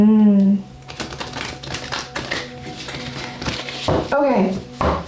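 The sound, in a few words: shuffling tarot cards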